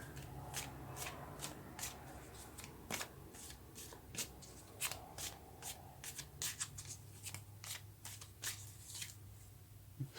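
Tarot cards are shuffled close by in repeated quick riffling bursts with soft papery slaps in a quiet room, and no one speaks.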